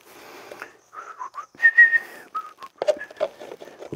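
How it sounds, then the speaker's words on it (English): A person whistles a broken, wandering tune in short melodic phrases, close and clear, while rehousing a straight-horned baboon tarantula. "I just realized I'm whistling"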